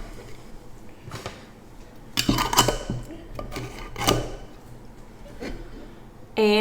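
A glass jar is washed and handled in a kitchen sink: scattered clinks and knocks of glass, a few louder clatters and a final scrape of the lid going on, close and fairly quiet against faint background hum.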